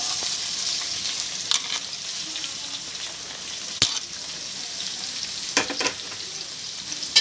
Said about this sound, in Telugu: ఆయిల్ హీట్ అయ్యాక ఆనియన్స్ అయితే వేసేసుకుందాము.